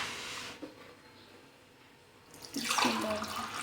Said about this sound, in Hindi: तो अब हम गिलास में सर्व करते हैं।